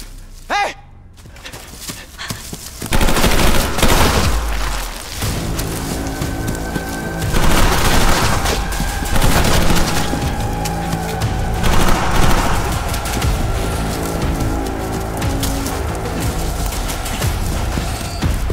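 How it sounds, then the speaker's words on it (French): Bursts of gunfire from a scene in season 2 of Alice in Borderland, loud rattling volleys and booms with shattering impacts spread across the clip, mixed with dramatic soundtrack noise. "Quelqu'un lui tire dessus à un moment à ce mec."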